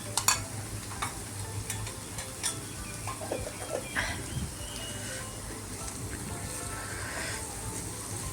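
Paneer cubes shallow frying in a small amount of ghee, a steady soft sizzle with scattered clinks and stirring scrapes from a pan, moderately close and without talk.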